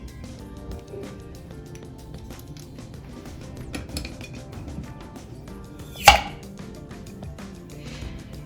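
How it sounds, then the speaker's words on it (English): A home-canned jar of chili beans sealed with a Dollar Tree canning lid pops open once at about six seconds, a single sharp near snap rising above a low, steady room background. "you will hear how good a seal this Dollar Tree lid gave to that jar of chili beans"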